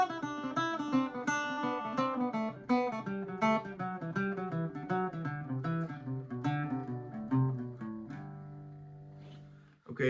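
Irish bouzouki playing a scale exercise with alternate picking in a swung rhythm, a steady run of bright plucked notes up close, ending on a ringing held chord.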